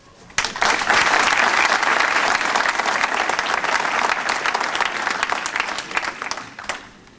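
An audience applauds the mayor at a Hoshana Rabba gathering in Sarcelles, a sudden burst of sustained, dense clapping that holds steady for several seconds and then thins out.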